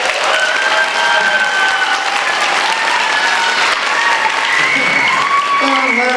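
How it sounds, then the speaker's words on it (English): Sustained, loud applause from a concert audience for a performer named Eleanor at a December 2021 show. The clapping is dense and steady from start to finish, with a few whoops and cheers mixed in. "So clap it up for Eleanor."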